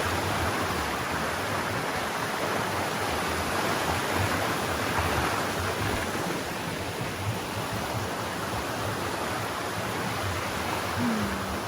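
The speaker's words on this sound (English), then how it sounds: "Endless streams." A mountain stream flows along a trail at Johnson's Pass in Alaska, a constant broadband rush of water with no voices.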